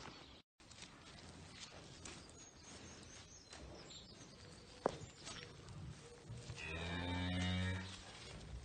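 A cow on a farm moos after calving, one long low call rising near the end, preceded by quiet barn noises, footsteps and a sharp knock.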